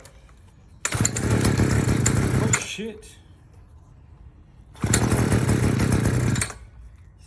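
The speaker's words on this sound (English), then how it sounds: "never really had much luck with these petrol engines." A petrol engine on an allotment garden machine fires up in two bursts, each roaring loudly for under two seconds before cutting out. A man swears briefly between the attempts.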